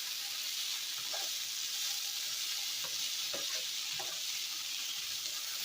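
Ground hamburger meat sizzles steadily in a frying pan, a constant close hiss with occasional soft scrapes of stirring underneath.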